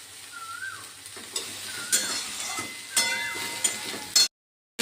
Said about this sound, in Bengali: আমি সর্ষের তেল গরম করে কড়াইতে আদা কাঁচা লঙ্কা বেটে সেটাকে দিলাম।